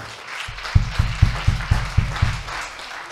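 A short burst of applause from a church congregation during a worship service, with a few strong, evenly spaced claps in front, rising quickly and then fading.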